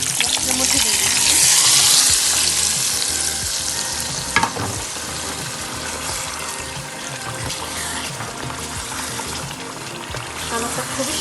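Turmeric-coloured fried eggs go into masala for dim bhuna, raising a loud, steady sizzle with stirring noise and one sharp clink partway through.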